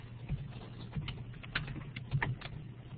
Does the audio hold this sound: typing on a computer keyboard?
yes